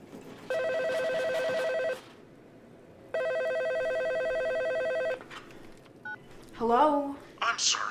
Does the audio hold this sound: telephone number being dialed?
yes